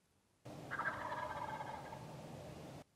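Wild turkeys gobble on a hunt, a loud, rolling gobble lasting a couple of seconds and standing alone with no talk over it.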